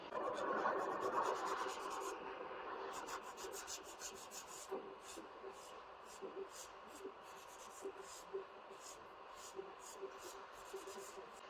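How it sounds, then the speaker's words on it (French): A nail file shapes a fingernail during a Popit nail application, giving a steady, close scratchy rasp with repeated back-and-forth strokes and soft brief ticks. Quiet speech may sit faintly in the background. "première étape du limage, je vais commencer par donner la forme"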